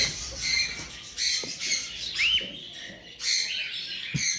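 A four-year-old male sun conure, a large breeder parrot, gives repeated short bright chirps and squawky calls in bursts, close and fairly loud with brief pauses between them.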